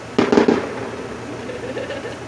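Fireworks pop on the 4th of July in a quick cluster of sharp bangs off in the distance, then faint crackling and scattered pops against outdoor background noise.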